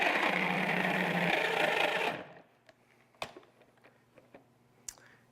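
A Cuisinart food processor whirs loudly for about two seconds while blending salt, garlic powder and garlic cloves, then stops, leaving a few faint knocks and clicks close by.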